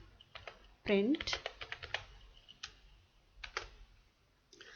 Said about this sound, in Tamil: டைப் பண்ணியே காமிக்கிறேன்.